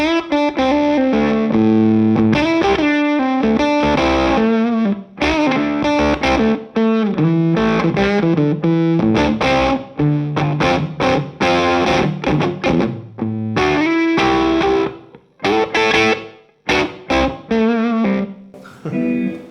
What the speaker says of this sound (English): If I turn off the Magma, this is the fuzz and the Peacekeeper.